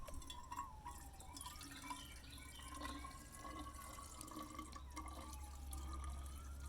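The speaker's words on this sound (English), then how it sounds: "how satisfying it is to pour water" Faint trickling and dripping of water poured from a bottle outdoors, a thin continuous splash with small drips, soft and low in level against a steady background hum.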